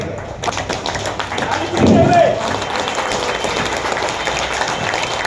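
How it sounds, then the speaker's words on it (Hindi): An audience at an employees' assembly claps steadily, a rumbling mass of applause that swells briefly in the middle, with a voice speaking over it. "ये ताली हम लोग अपने लिए बजा रहे हैं"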